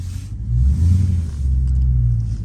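Dodge Scat Pack with stock exhaust revving up close in cold weather, two deep, rumbling throttle blips with a low engine drone swelling, dipping briefly, then rising again.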